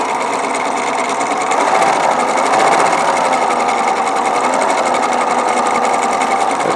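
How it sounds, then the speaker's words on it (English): Husqvarna Viking 950 sewing machine with a vertical bobbin runs steadily, its motor a fairly quiet, less buzzy hum that holds a continuous even whir close by, with no talk. "It's got a different motor than the white. It's a little quiet, a little less buzzy."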